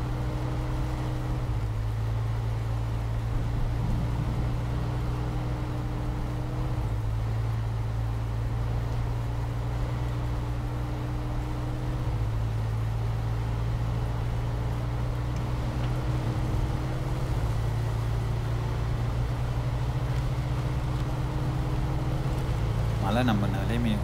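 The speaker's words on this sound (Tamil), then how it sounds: "லோவர் கியருக்கு மாறிக்கிறேன். அப்போ தான் கொஞ்சம் வண்டி ஸ்டேபிளாக ஸ்லோவாக மூவ் ஆகும்." A truck engine drones in low gear in the video game SnowRunner on an Alaska map, a loud, continuous low hum with slight shifts in pitch throughout.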